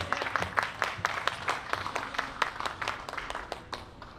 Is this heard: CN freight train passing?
no